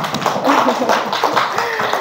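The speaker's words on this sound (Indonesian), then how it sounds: "Tepuk tangan buat kita semua nggih" A group of teachers clapping for themselves during a training session on positive discipline, a short burst of uneven hand claps and taps, with speech and voices running over it.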